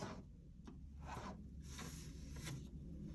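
A marking pen drawing lines on quilt fabric, soft repeated scratchy strokes in short bursts, close and fairly faint, with no talking.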